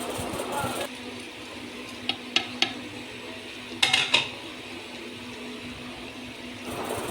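A spoon knocks and scrapes inside a clay pot of beef pulao as masala is stirred in, a few sharp clinks standing out over a low simmering background.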